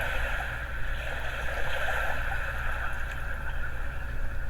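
Ocean waves on a beach make a steady, continuous wash of rushing water, fairly loud and even without distinct breaks between crashes.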